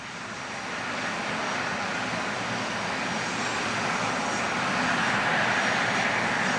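A jet plane approaches an aircraft carrier to land, its broad engine roar swelling steadily louder as it nears, loud and continuous with no talk.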